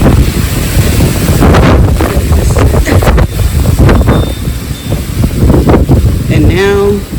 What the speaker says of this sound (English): we've got a bit of wind today